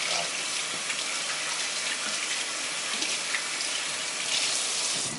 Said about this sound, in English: Let me get my hands washed up real quick and I'll be right back.